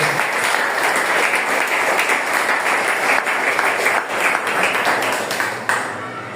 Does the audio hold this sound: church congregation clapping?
yes